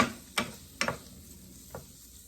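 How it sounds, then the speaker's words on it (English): Spam fries in a pan with a soft, steady sizzle, broken by three sharp scrapes or knocks of a utensil against the pan. "so I am frying up"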